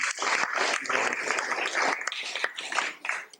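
Temple audience at a Dallas Vyasa Puja gathering gives a sustained round of applause for donors, dense overlapping hand claps at steady loudness that thin out near the end.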